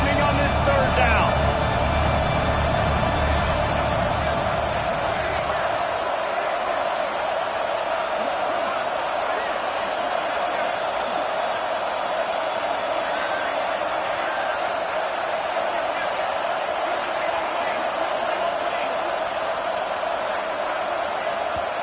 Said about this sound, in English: The house of loud is deafening on this third down.